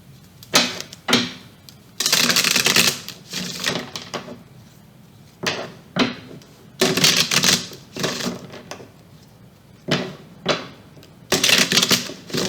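Tarot cards being shuffled and pulled from a deck, heard as repeated bursts of crisp riffling and slapping separated by short pauses, close and fairly loud with no talking.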